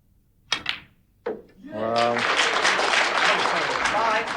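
A snooker crowd at the 1990 British Open, Alex Higgins versus Doug Mountjoy, breaks into sustained, dense applause after a couple of brief thuds and a short voice, the clapping holding steady and fairly loud to the end.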